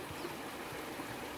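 A river at Warrandyte flows over a shallow stretch, giving a steady, close rushing and trickling wash of water with no talking.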